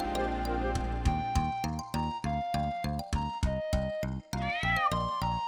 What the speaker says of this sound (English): And a black cat.